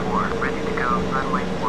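An airplane taxis toward takeoff in a Danish flight simulator game, with a steady engine drone running underneath.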